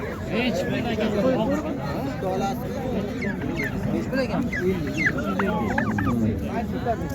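Turkeys gobble repeatedly amid a noisy crowd of chattering voices and other poultry at the Karshi Karvon livestock market, loud and close, with overlapping calls throughout.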